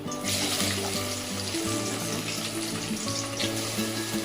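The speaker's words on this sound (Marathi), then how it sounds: "हा कांदा आपल्याला व्यवस्थित असा विरघळेपर्यंत ह्याला या तेलामध्ये फ्राय करायचा आहे" Onion frying in hot oil for chicken biryani, a steady loud sizzle with faint clatter of stirring throughout, close up and with no talking.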